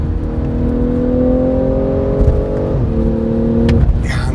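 A BMW M340i xDrive's exhaust drops in pitch as the throttle is lifted, a loud close engine drone falling steadily, with a brief step down and a few crackles near the end.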